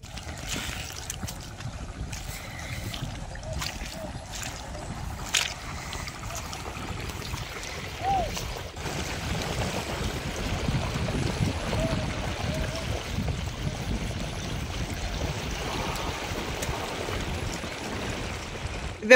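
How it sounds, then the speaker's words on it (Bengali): Water rushes and gurgles steadily close by through a paddy field for a long stretch, a continuous flowing wash with occasional faint knocks and no clear talking. "পানি যাচ্ছে তো সেই জন্য আওয়াজ হচ্ছে।"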